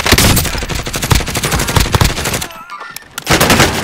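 Rapid automatic gunfire in the video game Call of Duty: Warzone crackles in dense, loud bursts, pauses briefly, then resumes with more sharp shots close by.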